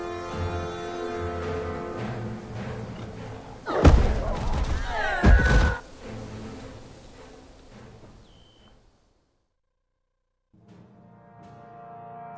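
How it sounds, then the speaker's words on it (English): A video game explosion in Guild Wars 2 in a forest setting: a sudden loud burst erupts over a low droning score, a second blast follows a moment later, then it fades to near silence before music returns. "Nice explosion."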